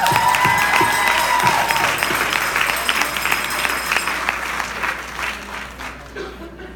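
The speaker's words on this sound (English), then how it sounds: "Let's give them a round of applause." An audience at a faith tour event breaks into loud applause mixed with a few cheers. The clapping is dense at first, then gradually thins and fades away.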